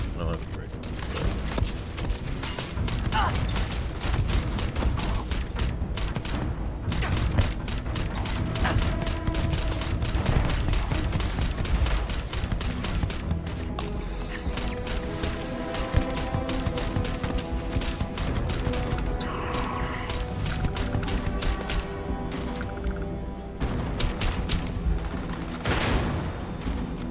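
Turret gunfire in the video game Starfield rattles in dense, continuous bursts of shots mixed with booms and mechanical clatter throughout, with a voice talking over the combat.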